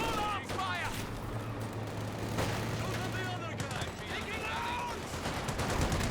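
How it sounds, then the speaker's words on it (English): Machine gun bursts and scattered gunfire in a Company of Heroes 2 battle, a steady stream of rattling fire from a crowded war scene, with a commentator talking over it throughout. "Machine guns are on both sides of it, working well"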